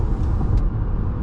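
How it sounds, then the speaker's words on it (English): Chevy Bolt EV pulling ahead on Route 10, a steady low road rumble and tyre hum from inside the cabin with no engine note, continuous and moderately loud throughout. "now I'm back on the throttle to accelerate, onto Route 10"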